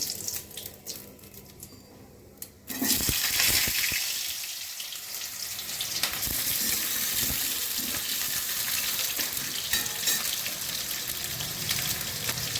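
Potatoes go into hot oil with bay leaves and five-spice seasoning. A quiet, watery start gives way to a sudden loud, close sizzle that holds steady to the end.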